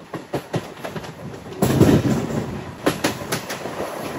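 A crowded MEMU express train passes through Annavaram railway station, its wheels beating a regular clickety-clack over rail joints with a brief louder rumble in the middle, heard from inside the carriage.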